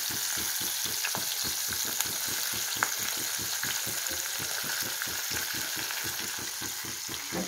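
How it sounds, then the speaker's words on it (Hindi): Green chillies frying in about five tablespoons of hot mustard oil, a continuous crackling sizzle with a quick, regular stirring rhythm underneath, moderately quiet and close. "हम इसमें मिर्चें डाल देते हैं।"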